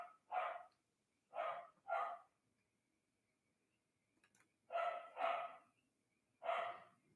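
Puppies bark in short bursts, about seven yaps in irregular clusters with pauses between them, heard fairly close and alone.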